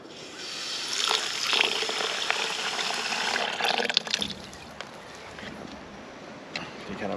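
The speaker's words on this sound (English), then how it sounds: "just add a little bit of water to the container." Water being poured into a container for a home garden soil test, a steady splashing fill that runs for several seconds, then a softer trickle and dribble with occasional drops.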